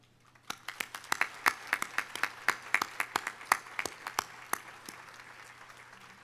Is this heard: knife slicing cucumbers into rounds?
no